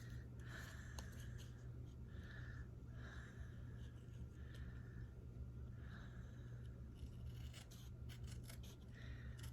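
Scissors cut a paper square for a cathedral cross card in repeated short snips with soft rasping paper sounds, close and steady over a constant low background hum.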